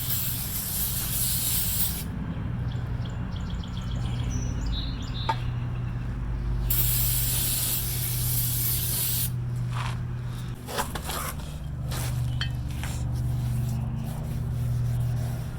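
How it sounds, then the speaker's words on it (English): Brake parts cleaner sprays onto a new brake rotor on a 2015 Town and Country, coming in two close, hissing aerosol bursts a few seconds apart, with quieter shop noise in between. "Hit the new rotor with some brake parts cleaner."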